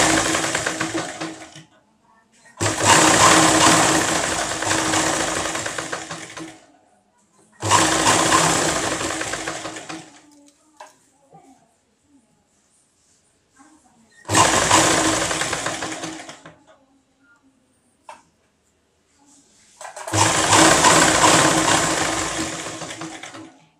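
A sewing machine stitches cloth piping without thread cord, running in four loud, steady bursts of a few seconds each, separated by quiet pauses with faint handling of fabric.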